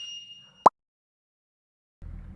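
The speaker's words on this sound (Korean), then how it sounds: "그리고 후진 이렇게 비프 음이 들리죠." An electric ATV farm truck sounds one short, sharp warning beep as it is shifted into reverse, followed by near silence and faint low rumble.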